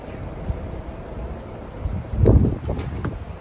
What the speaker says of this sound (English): The only thing that you hear right now is wind.